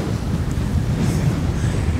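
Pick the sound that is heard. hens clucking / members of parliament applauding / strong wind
strong wind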